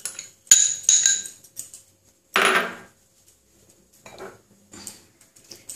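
Rohu fish roe mixed with onion and spices in a bowl gives scattered close clinks and scraping knocks of a utensil against the dish, with one longer rustling squelch, separated by near-silent pauses.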